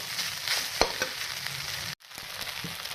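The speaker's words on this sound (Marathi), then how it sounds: "मस्तपैकी तीन ते चार मिनटं परतून घेणार आहोत" Sabudana khichdi being sautéed in a pan, a steady low sizzle with a few spatula scrapes and a sharp clink near the start, then a brief gap before the frying resumes.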